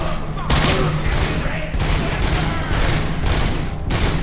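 Rapid gunfire from a hard rock themed video game crackles in dense, repeated bursts, with heavy thumping shots layered throughout and a voice talking over the action.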